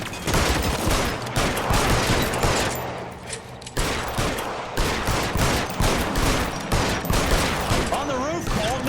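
Gunfire from a shootout in the video game L.A. Noire: dense, overlapping volleys of shots crack continuously throughout, with a brief lull midway, while game characters talk over the fighting.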